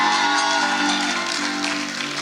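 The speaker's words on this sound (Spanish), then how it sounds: "denle un fuerte aplauso a Jesús" A church congregation applauds during a miracle service, a steady wash of clapping at moderate loudness lasting a couple of seconds with faint crowd murmur.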